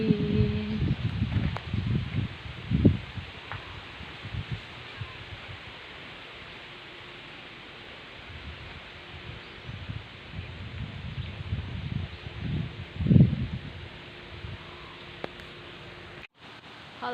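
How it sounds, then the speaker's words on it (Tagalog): Strong wind blows outdoors and buffets the microphone with low rumbling gusts, rising and falling over a faint hiss, with a few louder bursts. "It's so windy."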